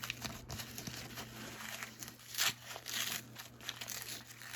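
Plastic Hot Wheels blister cases crinkle and crack as they are opened, soft close rustling with a few sharper snaps over a faint background hum.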